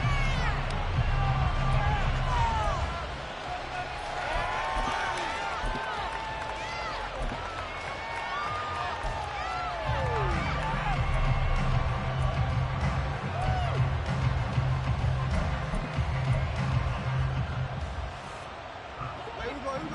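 A stadium crowd in a football video game during a Seahawks game gives off a continuous roar and murmur with scattered shouts, running under steady play-by-play commentary.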